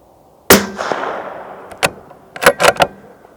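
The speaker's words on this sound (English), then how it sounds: "Shooting with quite a hot barrel now." A Tikka T3X TAC A1 rifle in 6.5 Creedmoor fires one sharp, loud shot that rings and decays. Several quieter clicks and thumps of bolt handling follow.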